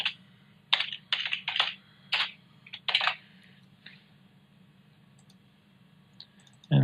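Computer mouse clicking through Holter ECG analysis software, a series of quick, close clicks in small bursts, some doubled, followed by a pause and a few more clicks.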